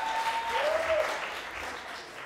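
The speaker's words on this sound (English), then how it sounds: "I think she deserves an applause." A short burst of clapping from an audience, steady and fairly soft, fading slightly toward the end.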